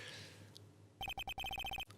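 A phone in the video game Ace Attorney: Justice For All rings after a redial. A quiet lead-in gives way to a rapid run of sharp, bright electronic ring beeps in quick clustered pulses, then stops.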